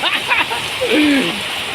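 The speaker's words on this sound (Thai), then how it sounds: "อากาศไม่มืดนะครับแต่ฝนตกนะครับ" Rain falls outdoors in daylight as a steady, close broadband hiss with scattered spatters and a few faint tonal sounds over it.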